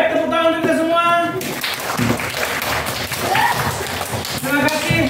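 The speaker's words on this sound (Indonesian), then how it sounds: "Baik, tepuk tangan untuk kita semua." A class of sixth graders at an Islamic elementary school in Rantauprapat breaks into a few seconds of steady group clapping, with a teacher's voice heard just before and after.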